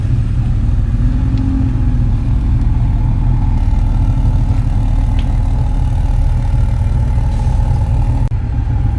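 A BMW 340i with a B58 engine and an RK Tunes front mount intake idles steadily and loudly, a constant deep drone with no clear revs, running for the whole stretch.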